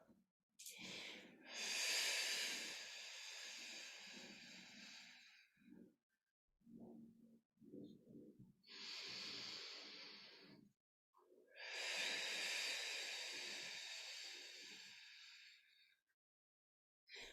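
Loud, deliberate breaths in a hips-and-core exercise class with a magic circle, long airy inhales and exhales repeating in a slow rhythm, close to the mic, with short pauses between.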